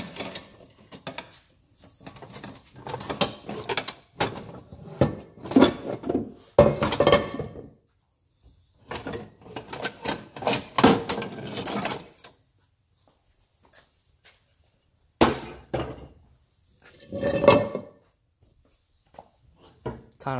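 Pans and dishes clatter and clink in a home kitchen while rice and eggs are prepared, with irregular bursts of handling noise, scraping and knocks close by, separated by quiet gaps.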